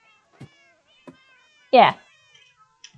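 Cats meowing in a video game with several pets, heard as a few faint, brief mews and one louder, clear meow in the middle, with soft talk around them.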